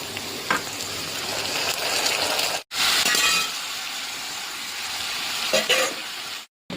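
Chicken pieces sizzle loudly in a pan with fried onions and potatoes, a constant crackling hiss broken by stirring scrapes and clinks, with two brief cuts to silence.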